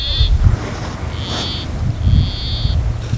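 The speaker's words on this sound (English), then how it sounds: "That's the sound of a Peruvian plantcutter, one of Peru's rarest birds." A Peruvian plantcutter, a rare Peruvian bird, gives three nasal, buzzy, bleat-like calls in a slow series, clear and fairly close over faint background noise.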